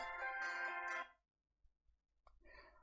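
A mobile phone ringtone plays a bright electronic melody for about a second and then cuts off, followed by a short quieter tonal snippet of the same tone.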